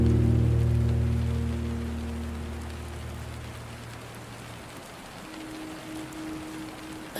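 Heavy rain pours steadily with a dense, even hiss, while low sustained tones hum beneath it early on and then fade away.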